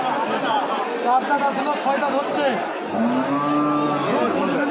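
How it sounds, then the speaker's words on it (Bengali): A cow moos nearby, a low drawn-out call near the end, amid a crowded cattle market in Joypurhat, Bangladesh, with people chattering and talking close by. "এটাও একটা সুবিশাল হাতি সাইজের গাভী"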